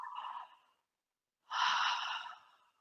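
Two long breaths during a guided harmonic alignment practice, a soft airy exhale followed after a pause by a deeper, louder inhale, close and unaccompanied.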